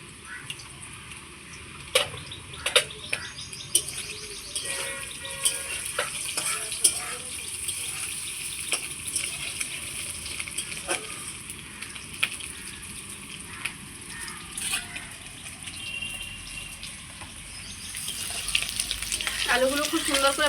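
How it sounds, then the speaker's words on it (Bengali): Potatoes frying in hot oil in a home kitchen as a jackfruit and prawn meal is cooked, giving a steady, close sizzle with bright crackle and scattered sharp pops, rising louder near the end. "আলুগুলো খুব সুন্দর করে ভাজা হয়ে গেছে"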